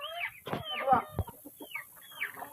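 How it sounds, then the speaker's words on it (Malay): Roosters and village chickens, including ayam gajah, cluck and squawk close by in a mixed flock, with a quick run of overlapping calls and short sharp bursts. "ayam jantan, ayam gajah, ayam kampung dalam satu lau"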